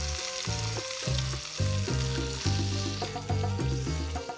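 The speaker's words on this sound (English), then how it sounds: "While the last 2 chunks of brisket are in the pan" Brisket chunks sizzle loudly in a hot pan, a dense steady crackle close up, with a low rhythmic rumble running underneath.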